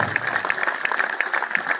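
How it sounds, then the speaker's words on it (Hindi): Applause from an audience at a Jat community Diwali gathering in Greater Noida, a steady patter of many hands clapping, fairly loud and continuous for a short burst. "थोड़ी तालियां दे दीजिए"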